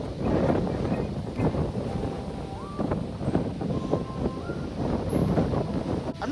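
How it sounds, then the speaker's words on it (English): Steady low rumbling wind buffeting the microphone throughout, loud and continuous, with faint background sounds underneath, while cycling near Loch Ness, Scotland. "Sorry, I know it's windy"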